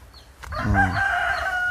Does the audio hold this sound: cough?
no